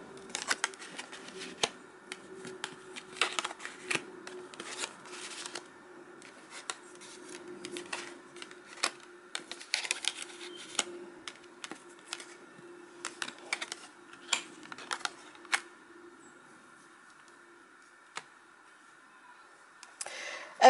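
Tarot cards are handled and turned over in a quiet room, giving soft scattered flicks, taps and shuffling clicks in irregular bursts, close and faint.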